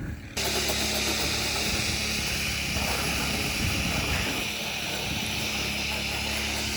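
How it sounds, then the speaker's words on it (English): Strong gusty wind buffeting the side of a house, a loud, dense, continuous roar that starts abruptly and holds steady, close to the microphone, without talking. "The wind is torturous on this side of the house."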